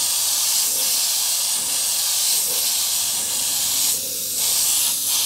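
An airbrush sprays paint in a steady hissing stream, briefly cut off twice near the end as paint is switched on and off in short bursts; close and continuous, with no talking.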